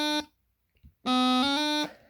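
Two bright, reedy bagpipe practice chanter notes, B then D, with a short gap between them, the second held and wavering as an unwanted C slips in mid-tone.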